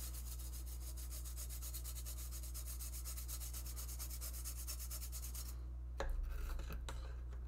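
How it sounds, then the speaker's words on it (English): A toothbrush wetted with alcohol scrubs solder flux off the pins of a freshly soldered Bally/Stern rectifier circuit board, a fast, steady bristly rasping close up for about six seconds, then a few louder scattered knocks and handling sounds. "You basically just give it a little scrubbing over all the pins you just soldered on."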